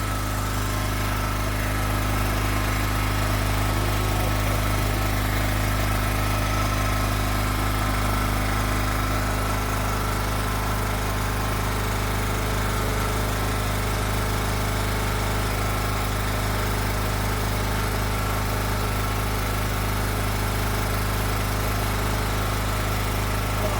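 A generator engine runs loudly and steadily without pause at close range while a welder is arced off it, a constant droning hum with no talking.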